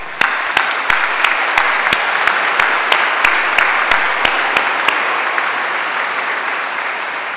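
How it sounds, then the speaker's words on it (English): A university commencement audience applauds: a loud, steady wash of clapping with sharp individual claps standing out near the front, gradually easing off toward the end. "I think you all deserve a round of applause."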